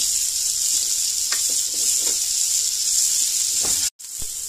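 About two medium chopped onions sizzle in a pot over medium heat, a steady bright hiss with a few soft stirring scrapes. The sizzle briefly cuts out near the end, then resumes.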